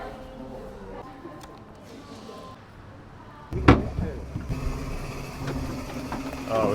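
A tour boat engine starts up on a river trip around Ayutthaya, its low steady drone rising suddenly and continuing beneath chatter from passengers seated at the back.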